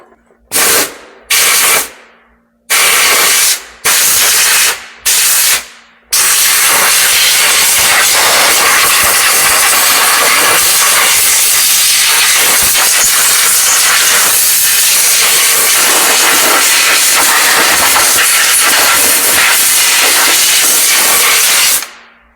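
Loud bursts of compressed-air spraying hiss in several short blasts, then one long continuous roaring spray, very close.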